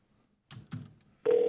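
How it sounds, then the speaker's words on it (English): A telephone rings in the video game Sally Face. Two short clunks come first, then a steady electronic ring starts up loud and clear with no talking over it. "Pick up the phone, Larry."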